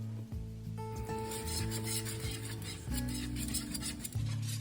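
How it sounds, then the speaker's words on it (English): All-purpose flour being whisked steadily into a thick roux for Dutch croquettes, a continuous close scraping and stirring rhythm with a faint tonal background throughout. "gradually whisk in the 300 grams of all-purpose flour. Stir constantly while you add it to create a smooth, thick paste"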